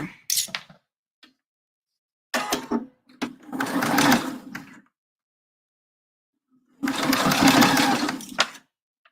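Sewing machine stitching through thick fabric for a round tailor's pressing ham, running in two sustained bursts plus a shorter one, with brief light clicks and pauses between, close and fairly loud.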